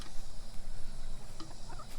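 A few soft chicken clucks over a constant background rumble outdoors.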